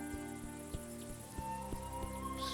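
Crickets chirping in the A Juggler's Tale video game, a rhythmic pulsing chorus of insect trills with regular beats, steady and fairly loud against a tonal musical backdrop.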